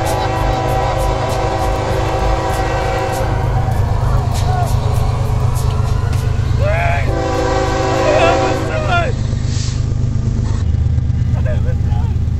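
A train rumbles past close by, heavy and loud, its horn sounding in long tones over the rolling wheels, with a voice speaking briefly in a tense dramatic scene.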